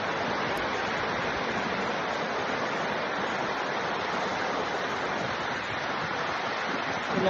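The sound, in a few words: flowing stream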